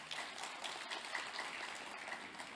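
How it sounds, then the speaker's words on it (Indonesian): An audience at a research event claps for Indonesian presidential hopeful Ganjar Pranowo, a steady dense patter of many hands that sounds faint and distant, with no break throughout. "Tepuk tangan buat Pak Ganjar."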